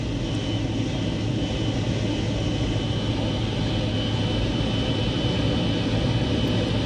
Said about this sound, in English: That is a big engine.